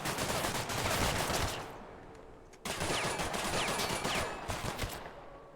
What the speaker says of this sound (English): They're literally just shooting the car.